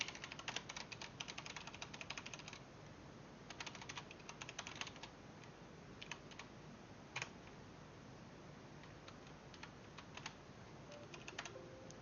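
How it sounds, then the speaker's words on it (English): Rapid keystrokes clatter on a computer keyboard, dense bursts of clicking in the opening seconds, then scattered taps and short flurries that continue at moderate closeness with no voices. "mashed my keyboard"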